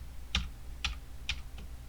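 Computer keyboard keys are pressed four times in a steady rhythm, short crisp clicks spaced about half a second apart, close and fairly quiet against a low background hum.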